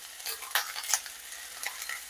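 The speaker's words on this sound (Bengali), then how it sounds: "তেল যেটা এক্সট্রা আছে হালকা হালকা ওর মধ্যে ক্যাপসিকামগুলো ভাজা হয়ে যায়" Capsicum pieces frying lightly in leftover oil alongside potatoes for a vegetable curry, giving a soft crackling sizzle with a few stirring scrapes, close and fairly quiet with no talking.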